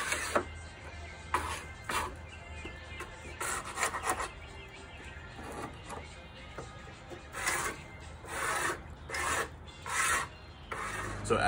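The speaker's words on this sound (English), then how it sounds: "after using your 5-in-1 tool and scraping off the loose paint chips" A 5-in-1 tool scrapes loose paint chips from porch wood in repeated rasping strokes, near and fairly loud, with short pauses between the bursts.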